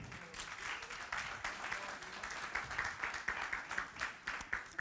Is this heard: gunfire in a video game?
no